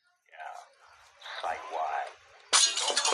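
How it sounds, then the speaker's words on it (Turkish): Glass shattering in a video game: a sudden bright crash near the end follows a stretch of voiced talk, then scattered breaking fragments. "Bir dakika bu camın kırılması lazım lan."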